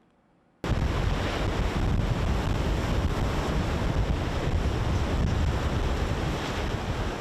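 Ocean surf on Taiwan's east coast near Magang Fishing Village starts abruptly after a brief quiet moment, then rolls on as a loud, continuous wash with wind buffeting the microphone.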